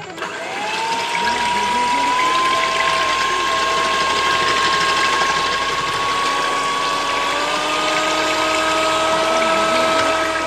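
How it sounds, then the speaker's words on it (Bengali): An electric mixer whirs steadily while beating ten eggs for a vanilla sponge cake, a loud, continuous motor whine with a rising pitch and a faint rattling churn underneath, heard up close and alone. "10টা ডিম আমি ফাটিয়ে নিয়েছি। এবার আমি ব্লেন্ড করে নেব।"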